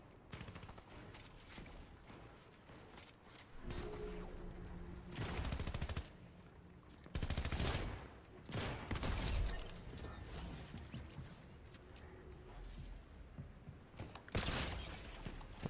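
Gunfire crackles in a GTA roleplay video game. Rapid bursts and volleys of shots come at intervals over a faint, busy background.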